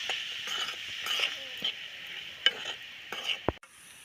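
Spiced jackfruit-flower stir-fry with crushed bird's-eye chillies being stirred in a pan, with soft sizzling and a few sharp scrapes and clinks of a spoon against the pan, close and fairly quiet, with no talking.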